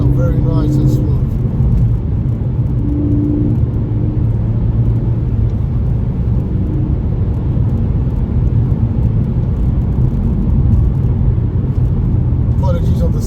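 A 2013 Ford Focus ST2 with a 2.0 litre turbo engine driving at speed, its steady loud engine drone and road rumble filling the cabin continuously throughout.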